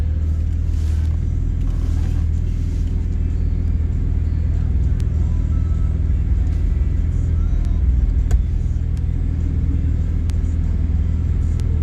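Porsche cars at an Atlanta street takeover give a continuous deep engine rumble with low idling and revving, steady and fairly loud throughout, with faint crowd noise in the background.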